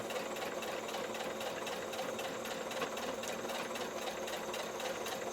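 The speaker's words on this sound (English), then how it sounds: "the sewing machine does all the stitches. I just feed paper into it" A sewing machine stitching paper runs continuously at speed, its rapid, even mechanical chatter stitching along steadily with no voices.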